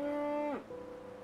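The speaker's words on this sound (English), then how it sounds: "Hey, cow." A single long, close moo from a cow in the fantasy role-playing game Enderal, holding a steady tone before dipping and trailing off into a quieter, sustained call.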